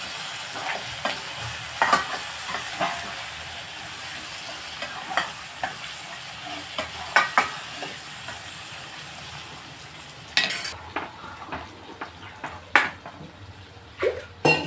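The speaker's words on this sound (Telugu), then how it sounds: "ఇప్పుడు పప్పు వేసేస్తాను చూడండి" Lentils for sambar going into a pot, heard as a steady low sizzle of cooking with scattered clinks and scraping stirs of a utensil against metal, a louder burst of stirring and clatter near the end.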